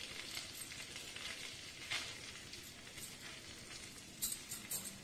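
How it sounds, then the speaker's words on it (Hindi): Crumbled paneer sizzling in hot ghee in a pan for a Diwali sweet, a continuous fine crackle with a few sharper pops and spits, close and fairly quiet, no talking. "घी को हम गरम कर लेते हैं। जैसे ही घी हल्का सा गरम हो जाएगा तो जो हमने पनीर लिया है इसको हम इस तरह से क्रम्बल करते हुए पैन में ऐड करेंगे।"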